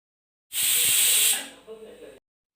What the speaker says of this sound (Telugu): 2 విజిల్స్ వచ్చాయి.